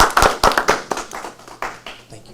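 A small gathering at a Board of Elections meeting honoring a retiring chairman claps briefly. Sharp, close hand claps come in a quick burst and thin out within a couple of seconds.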